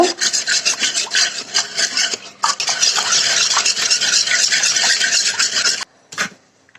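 Powdered milk being stirred into milk for homemade yogurt, a continuous close scraping and rubbing of a spoon against the pot that runs steadily and stops near the end, followed by one brief final stir.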